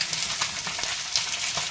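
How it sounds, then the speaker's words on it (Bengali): Pabda fish frying in hot oil, a dense continuous sizzle with small popping spatters and a few faint clinks, close and steady. "মাছটা ভাজা হয়ে গেছে,"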